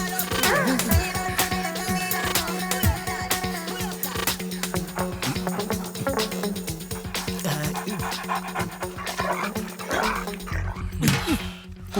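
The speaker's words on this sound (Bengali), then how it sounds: "কুকুরটা চলে গেছে" A dog barks in yips and whimpers within a busy comedy film scene, its calls mixed into a dense, steady bed of background music and effects, with faint voices now and then.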